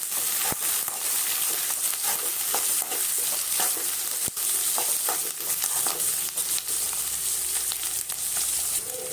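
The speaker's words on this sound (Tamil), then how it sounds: "இதோட நம்ம கட் பண்ணி வச்ச வெங்காயத்தை சேர்த்துக்கலாம். வெங்காயம் நல்லா வதங்கட்டும்." Chopped onions sautéing in a pan after garlic for tomato thokku, a continuous crackling sizzle with frequent spatula stirring clicks and scrapes, up close and without talk.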